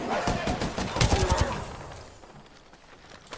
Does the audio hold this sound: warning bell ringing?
no